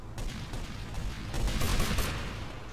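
Rapid gunfire in GTA Vice City Stories, a dense continuous volley of shots that swells louder midway, filling the short stretch without talk.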